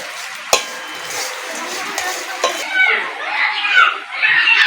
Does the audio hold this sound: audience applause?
no